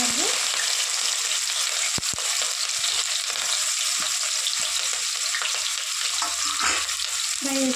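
Chopped onions and green chillies frying in hot oil give a steady, loud broadband sizzle throughout, with a few brief stirring clinks and scrapes on top and no talking.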